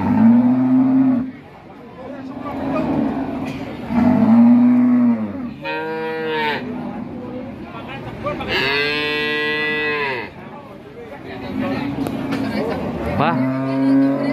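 Cattle at a busy livestock market in Jatirogo moo loudly and repeatedly, long drawn-out calls close by, with market chatter and background noise underneath.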